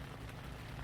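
Frozen slush rain falls steadily on a truck tent during winter desert camping, a dense, even patter and hiss close by, with no voices.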